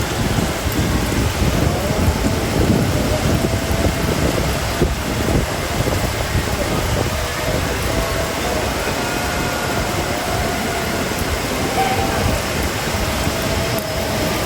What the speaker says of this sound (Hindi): बहुत ज़बरदस्त किस्म की हो रही है बारिश, और तेज़ हो रही है